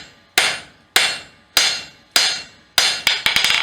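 Sharp, ringing hammer blows on steel over an anvil while forging a skillet handle, half-on half-off strikes: four evenly spaced loud clangs that each ring and decay, then a quicker burst of several hits.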